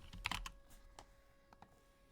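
Rapid keyboard typing up close, a dense burst of keystrokes in the first half second, then sparser, softer taps and a few isolated key presses against a quiet room.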